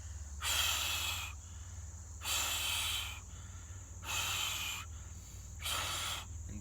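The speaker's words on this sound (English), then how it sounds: "deeply breathing in." Deep, slow breaths during a guided breathing exercise, four long airy inhales and exhales in steady rhythm, close and soft over a low constant hum.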